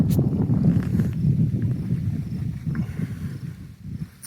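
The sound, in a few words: wind blowing at the Lake Michigan lakeshore dunes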